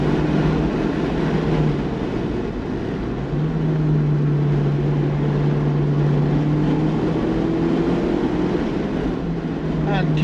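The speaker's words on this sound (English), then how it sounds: "And keeping the revs nice and high." A car engine drones steadily at high revs while driving on a B-road on Scotland's west coast, a rising-and-falling tone holding close and loud throughout with constant road and wind noise.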